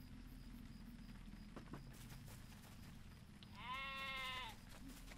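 A sheep in the online game Lord of the Rings Online gives a single short bleat near the end, clear above a low, steady ambient background.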